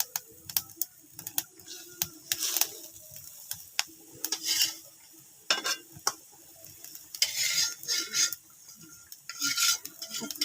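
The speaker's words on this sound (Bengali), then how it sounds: "দেখেন আমার হচ্ছে এই যে ঝোলটা হচ্ছে ফুটে গেছে, আমি এর ভিতরে মাছ দিয়ে দেবো একে একে" Rohu fish pieces dropped one by one into a boiling curry and stirred, with bursts of sizzling and sharp clinks and scrapes of a spatula against the pot, close and intermittent.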